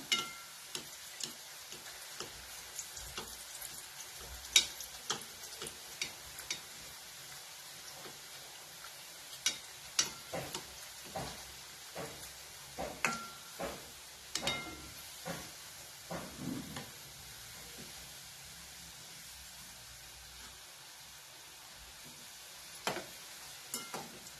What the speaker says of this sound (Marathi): हे चांगलं आता तळून घ्यायचं.